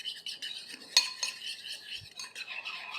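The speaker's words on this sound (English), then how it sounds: "Give that a good mix." Oyster sauce is stirred into tonkatsu sauce with a utensil clinking against a bowl, with light scraping and a couple of sharper taps, fairly quiet.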